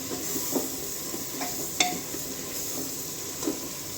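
Potatoes go into hot oil in a pan seasoned with turmeric, giving a steady close sizzle broken by a few sharp utensil clinks and stirring taps.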